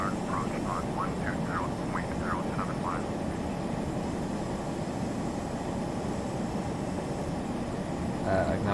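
An ERJ-145 jet climbing in the FSX flight simulator, a steady broadband engine and airflow roar that holds even throughout, with short chirpy tones near the start and end.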